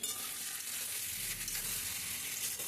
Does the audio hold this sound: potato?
yes